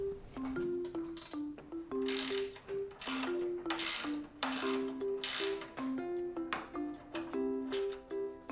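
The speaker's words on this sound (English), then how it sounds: "two additional bolts on the bottom, which will require a 10mm wrench to remove" A 10mm ratcheting wrench clicks rapidly in short repeated bursts while removing bolts from the bottom of a Riptide pool vacuum head, close and crisp, with brief pauses between runs of clicks.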